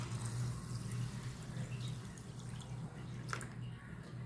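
Water pours steadily into a bowl while making ragi idli, a continuous close trickle with a low background hum and no voices.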